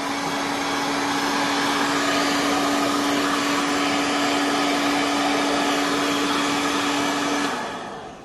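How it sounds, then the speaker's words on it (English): A heat gun blows a steady, loud whine and rush of air while shrinking PVC sleeving over a figure-of-8 power cord, running continuously before cutting off and fading at the end. "So we just get the heat gun, just shrink that down a bit."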